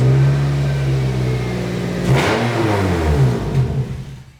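A 2004 Toyota Corolla engine with a repaired, tack-fitted exhaust revs close by, its raspy drone climbing and falling in pitch through a couple of throttle blips before settling.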